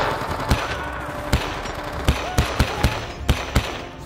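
Video-game combat near a tree line with bursts of gunfire, a series of sharp, loud shots spaced irregularly over a rumbling battlefield background, no speech.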